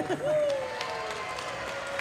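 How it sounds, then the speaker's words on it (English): Live audience applause at a ‘Ukulele Club of Hawai‘i show, a steady wash of clapping with a faint voice or tone drifting over it, moderately loud and sustained through the moment. "Please have a round of applause for Lena Girl"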